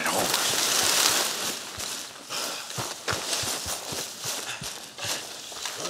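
Horse hooves in Red Dead Redemption 2, a steady clip-clop of hoofbeats at a walking pace, close and distinct, with ambient outdoor noise around them.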